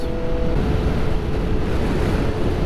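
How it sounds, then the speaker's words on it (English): Loud, steady wind buffeting the microphone of a motorcyclist riding open roads, a constant low roar with no breaks. "Yeah, it's really windy."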